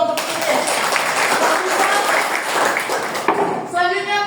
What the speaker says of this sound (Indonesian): Tepuk tangan kelompok Inggris.